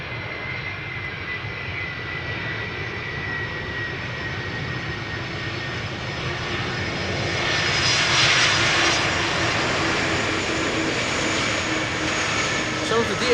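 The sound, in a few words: 30-year-old airplane arriving at Schiphol Polderbaan runway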